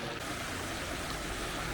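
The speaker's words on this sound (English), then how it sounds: "It's this brook, Hood Brook," Hood Brook flowing through the village of Hathersage in Derbyshire, a soft, continuous babble and trickle of moving water, quiet and steady with no voices.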